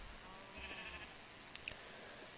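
Sheep bleating in the Minecraft Tekkit mod, a short, faint bleat in the middle followed by a couple of soft clicks, with no talking.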